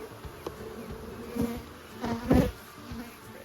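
Honey bees swarm around several hive entrances at a beekeeping site in Rio Vista, California, a steady close buzzing drone with individual bees swelling louder as they pass near, no voices.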